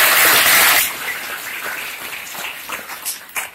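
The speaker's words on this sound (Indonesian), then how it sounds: "Tepuk tangan buat Yasir" An audience applauds a student named Yasir at a motivational session in an Islamic Quran-memorization boarding school in Tangerang: a dense burst of clapping for about a second, then quickly thinning and fading, with a few scattered claps near the end.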